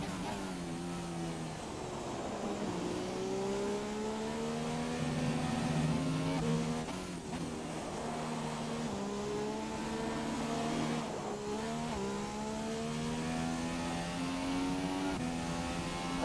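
A race car lapping the track in a sim racing game, its engine droning with pitch sweeps up and down through gear changes, steady and continuous.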